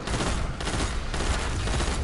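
A four-round burst weapon fires continuously in Destiny 2, a dense loud stream of rapid shots with no pause across the stretch.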